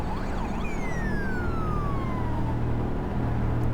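A police siren from the Euro Truck Simulator 2 driving game, heard while driving a modded BMW X6M, wails in one long falling sweep over a steady low engine drone, loud and close throughout.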